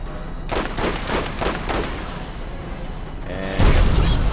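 Rapid bursts of gunfire in the video game Borderlands, a run of loud repeated shots with a heavier blast near the end, dense and close with no talk over it.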